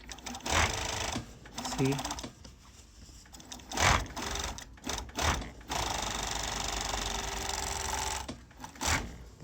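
A five-thread overlock sewing machine stitches piping in bursts of steady mechanical whirring, stopping and starting several times, with a voice speaking briefly between runs.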